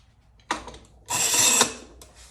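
Tightening a clamp on the backboard of a mandolin gives two close mechanical bursts. A short ratcheting rattle comes first, then a longer louder grinding turn, both sharp and near.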